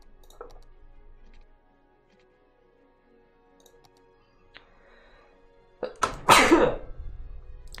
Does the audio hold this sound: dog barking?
no